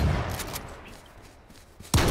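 Gunfire in the battle royale game H1Z1: a burst of shots at the start, a quieter stretch, then a loud sharp report right at the end, close and without speech.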